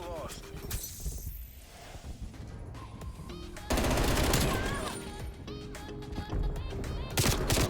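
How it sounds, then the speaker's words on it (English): Machine gun fire crackles in Black Ops Cold War, with rapid bursts and shots mixed with impact and game effects, growing louder midway; a player talks over parts of it. "Machine gun now."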